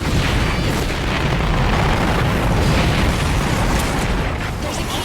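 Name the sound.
explosions from a co-op video game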